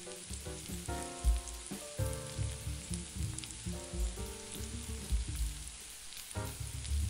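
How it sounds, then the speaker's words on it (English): Sausage, rice and tomatoes simmering in a pan while being stirred, a soft continuous bubbling sizzle with occasional spoon knocks, close and quiet, with no talk. "Keep stirring while it simmers"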